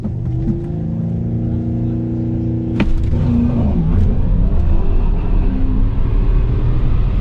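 A Fox Body Mustang idles with a deep rumble on a drag strip, then launches with a sharp burst and climbs in pitch as it accelerates hard down the track, loud and close, with voices faintly underneath.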